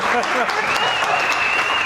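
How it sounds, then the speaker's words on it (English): An audience at a creative advertising talk applauds, a steady wash of clapping with a voice speaking or calling out over it for the whole short stretch. "Please, a larger round of applause"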